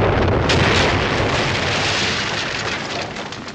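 A loud, close blast from an android bomb erupts and rumbles, then slowly fades over several seconds, with no talking.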